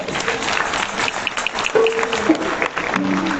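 A church congregation claps together in praise of the Lord, a steady spatter of applause with a brief sustained tone rising through it.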